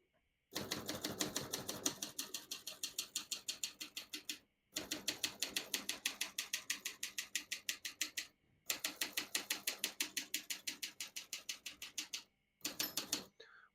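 A 1967 Facit Privat portable typewriter typing in fast, steady rhythmic bursts of sharp keystrokes, separated by short pauses, with a margin bell ringing near the end of a line. Close and clear, with no talking.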